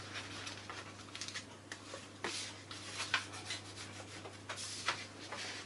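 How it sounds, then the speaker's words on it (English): Scored cardstock for a Stampin' Up! box is burnished by hand, producing soft, close rubbing strokes in an irregular rhythm over a low steady hum, quiet and without talk. "what we're going to do now is we're going to burnish them"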